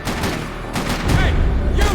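Loud bursts of automatic gunfire in Max Payne 3, with rapid shots, a short break, then more firing, all close and dense.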